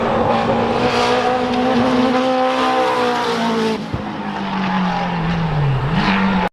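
Race cars roar nearby at the GridLife South event with high, sustained engine whine and shifting pitch, tires squealing as they drift around the track; loud and continuous.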